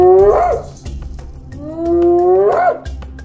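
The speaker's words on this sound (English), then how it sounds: "Hyena." A hyena gives two rising, whooping calls, each swelling upward in pitch and then falling, loud and close with a brief gap between them.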